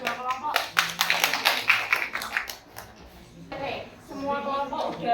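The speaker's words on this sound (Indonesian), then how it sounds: "Beri tepuk tangan untuk dua kelompok." Scattered classroom clapping after group presentations, with children's chatter mixed in, a burst of applause in the first few seconds, then voices and a few more claps.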